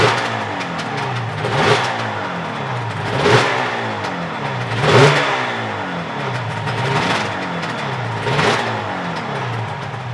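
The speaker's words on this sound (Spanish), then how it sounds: "Mira cómo suena el motor, cómo mantiene el ralentí a baja vuelta." A Yamaha RD500 motorcycle engine runs without its fuel tank or air filter, idling low with a loud, close, raspy throb that swells in slow, regular waves about every second and a half.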